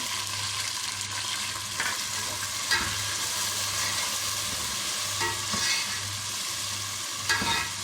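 Boiled, tender mutton fries in a pan with a steady sizzle and occasional stirring scrapes, close and continuous, with no voices.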